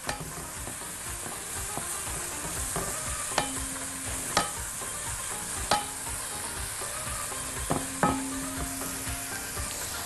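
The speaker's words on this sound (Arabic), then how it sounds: "وابتدي اقلب." Onions and garlic sizzle steadily in a frying pan while a spoon stirs them, with several sharp clinks of the utensil against the pan standing out over the frying.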